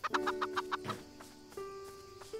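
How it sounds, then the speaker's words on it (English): Chickens in the farming game Everdream Valley cluck in a quick run of short repeated calls, followed by a few sparser clucks over a steady tonal game background. "right now I'm chasing chickens"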